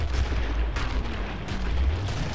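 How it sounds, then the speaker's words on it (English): A grenade blast in the Killing Floor co-op shooter, heard as a heavy, sustained low rumble with booming bursts that fill the whole clip, loud and close, with no talking. "Where did that grenade go?"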